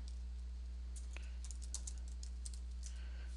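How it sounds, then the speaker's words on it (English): Computer keyboard keys are pressed, a few quiet scattered clicks over a steady low electrical hum. "you hold down the Control key of your keyboard, and then you also hold down the C key of your keyboard"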